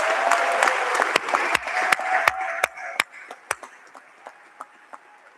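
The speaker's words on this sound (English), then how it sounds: "let's give yourselves another round of applause" Graduation audience applauding loudly, many hands clapping densely at first with sharp individual claps standing out, then thinning out to scattered claps toward the end.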